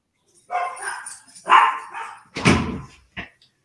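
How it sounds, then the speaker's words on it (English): A single dog barks a few times in quick, sharp bursts, close and clear, with brief pauses between barks in an otherwise quiet room. "I got a dog."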